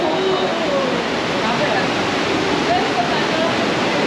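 Niagara Falls roars as a dense, unbroken wash of water noise heard from a tunnel leading out beside the falls, loud and steady throughout.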